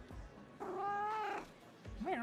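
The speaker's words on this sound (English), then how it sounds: "Thank God they have cat noises." A cat meowing in the video game Arknights: a short call, then a longer drawn-out tonal meow and a brief rising mew at the end, clear and close.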